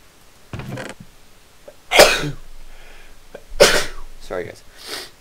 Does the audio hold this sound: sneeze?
yes